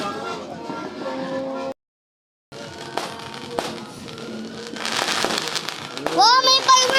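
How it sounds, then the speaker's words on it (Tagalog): Sharp firework bangs and crackles pop irregularly amid a noisy crowd, with excited voices and a whistling burst near the end. "Wow, may fireworks pa!"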